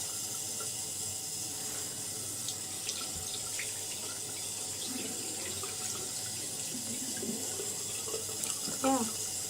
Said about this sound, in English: I don't know if the water is gonna overpower the microphone or not